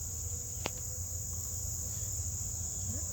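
Insects on an open prairie keep up a steady, high-pitched, continuous chirring drone at moderate level, with a single faint click and distant low background rumble.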